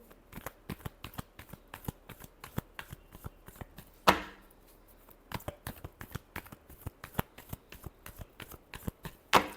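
Tarot cards shuffled by hand in a steady run of sharp, evenly spaced card slaps and flicks, close and fairly quiet, with one louder thud midway and no talking.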